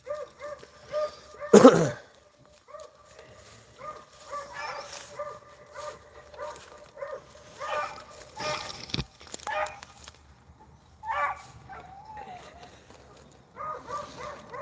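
A pack of beagles bays while chasing rabbits outdoors, a chorus of high, ringing howls and barks rising and falling in repeated bursts at moderate distance, with one loud close yelp early on.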